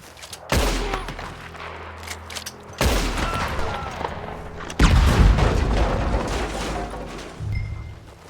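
Several loud video-game gunshot bursts boom out in quick succession, each ringing into a rumbling decay, with heavy blasts around the middle and a sustained roar afterward.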